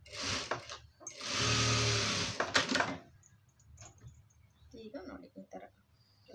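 A sewing machine stitches a short run on garment lining, a loud whirring burst of about two seconds after a brief earlier start, followed by quiet handling noises and low talk.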